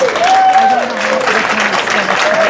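Audience applause for grape-strike veteran Lorraine Agtang, grand marshal of the 2024 Philippine Weekend, a steady wash of clapping with a voice or tone sounding faintly over it.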